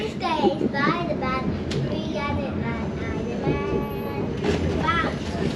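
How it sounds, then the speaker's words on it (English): An Elizabeth Line train bound for Terminal 5, a loud continuous rumble of the carriage in motion with rail noise throughout, while people talk and a voice is heard over it. "this is a train to Terminal 5, which is one of the newest services released today"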